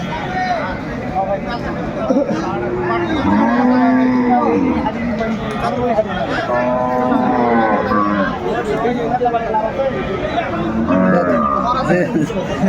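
Cows and calves moo repeatedly at a crowded cattle market, several close, drawn-out calls breaking through steady chatter and people talking nearby.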